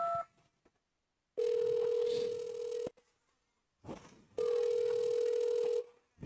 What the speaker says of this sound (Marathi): जरा तुम्ही परत एकदा त्याला फोन लावावं.